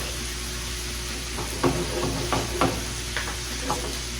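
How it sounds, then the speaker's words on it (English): Melted butter and beef stock stirred in a small saucepan, a steady soft hiss under a few scraping spoon strokes near the mic. "Stir it together and set it aside for later."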